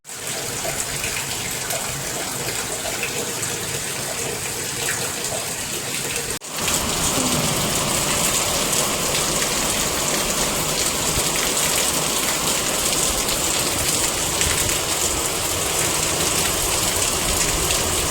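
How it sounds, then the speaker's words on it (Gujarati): Heavy monsoon rain pours down outside a house in a steady, loud hiss with no letup, briefly dipping then swelling even stronger partway through. "બહુ જ વરસાદ પડે છે, ના પૂછો વાત."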